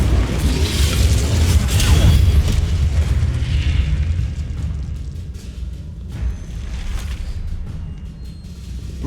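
Incendio fire spell from Hogwarts Legacy, a loud, roaring burst of flame and rumble that swells over the first few seconds and then fades to a lower crackling tail, with a short sharp pop near the end.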